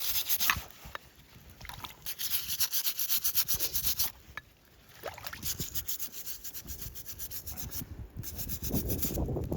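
The edge of a coin dug up during wartime metal detecting at an old German estate is rubbed steadily with fingers, giving continuous close scratchy friction with brief pauses.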